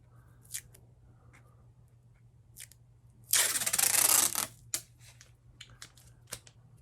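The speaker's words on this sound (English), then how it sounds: "So to start with, I'm going to grab some tape." A strip of tape is pulled and torn off a roll in one harsh, ripping burst lasting about a second, with quiet handling clicks and taps before and after it.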